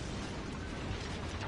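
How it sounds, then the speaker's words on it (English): A torpedo strikes the cruiser Kirov in World of Warships, a dense, steady rumbling boom filling the whole moment at moderate loudness with no voices. "the Kirov took a torpedo to the front"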